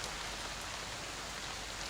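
Steady rain falls as a soft, even hiss that holds at a constant low level throughout, with no voices or other sounds.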